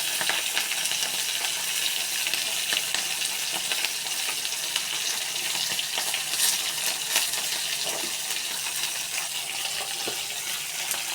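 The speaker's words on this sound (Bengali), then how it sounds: "এরকম মাছের মাথা ভাজা হয়ে গেছে" A fish head frying in hot oil gives a continuous, even sizzle and crackle close by, with occasional light stirring taps and no voices.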